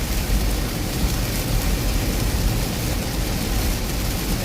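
Rain drums on a car driving along Florida's I-95 highway toward Orlando, a steady broad hiss mixed with road and tire rumble, continuous and fairly loud, with no talking.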